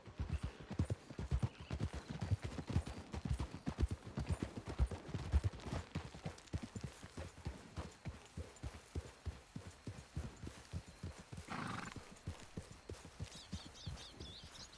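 A horse in Red Dead Redemption 2 trots along with rhythmic hoof clip-clops that hold steady and then ease slightly, and a brief whinny-like burst rises near the end.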